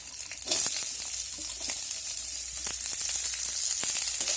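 Chopped onion fries in oil with cumin, a bay leaf and green chillies, giving a bright steady sizzle near the pan, punctuated by the light clicks of a spatula stirring.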